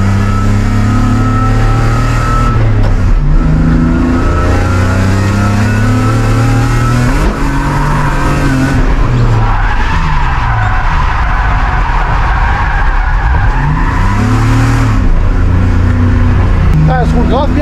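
A car drifts with tyres skidding and the engine revving hard, rising and falling through repeated slides; the sound is loud and close and fills the whole stretch, with voices talking over it.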